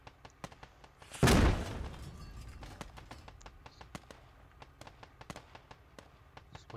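A Humvee explodes in a video game with a single sharp, booming blast that trails off, followed by scattered sharp taps and pops of ongoing gunfire at moderate volume.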